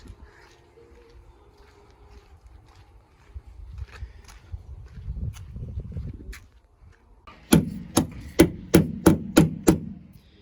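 A hammer strikes repeatedly while an E36 wide body kit is fitted, a quick run of about eight sharp, close knocks after some quieter shuffling and handling noise.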